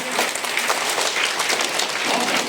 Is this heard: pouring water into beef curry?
no